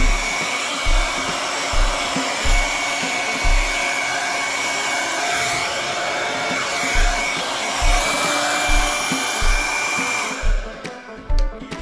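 A hair dryer blows steadily and loudly while drying freshly dyed hair at home, a continuous close rushing whoosh with soft low thumps underneath, cutting off near the end.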